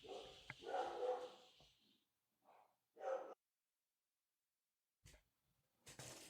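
A dog barks in a few short, separate bursts with quiet gaps between them, fairly close, with no talking over it.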